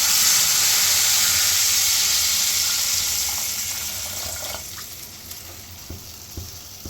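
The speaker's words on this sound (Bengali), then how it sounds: "এবার জল দিয়ে দেবো।" Water poured into a hot pan of oil and turmeric while cooking fish curry, giving a loud hissing sizzle that slowly fades into softer bubbling and a few light clinks.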